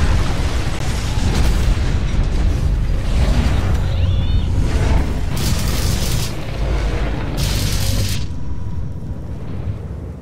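Rocket blasts and heavy booms in the mech combat game Hawken, a loud, dense rumble of explosions and machinery running continuously with a few sharp bursts standing out.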